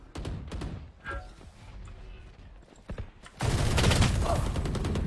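Odin machine gun fire in Valorant, sustained rapid bursts that grow loud and dense in the second half after scattered shots and thumps earlier.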